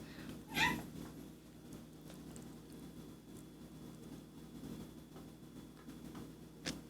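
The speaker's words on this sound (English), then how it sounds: "the cat might do something silly" A cat gives a single short meow near the start, faint and somewhat distant, in a quiet home kitchen, with low background hum and no talking.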